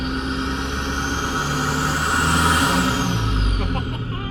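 Engine-swapped Nissan Patrol driven in manual mode, its engine droning loudly and steadily, with a whining tone that climbs and then falls away.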